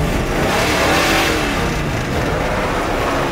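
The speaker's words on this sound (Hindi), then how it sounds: "गाड़ी को रेस कर गाड़ी को" A car engine revs hard and steadily, loud and close, a continuous roaring drone with no talk over it.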